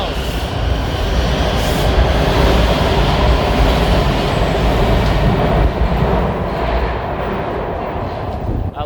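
Loud subway train rumbling through an underground tunnel on a trip to Washington, D.C., a steady dense roar with rail clatter that holds close and constant throughout, while faint voices sit under the noise.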